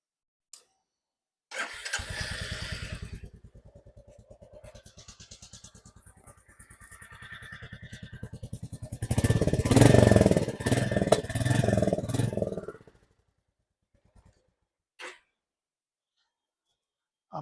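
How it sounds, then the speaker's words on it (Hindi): A Royal Enfield Meteor 350 motorcycle starts with a cranking catch, settles into a steady thumping single-cylinder idle heard close at the exhaust, then revs loudly for a few seconds before shutting off. "अब मैं आपको इसका एग्जॉस्ट नोट सुनाता हूँ, एक बार आप एग्जॉस्ट के पास चलिए।"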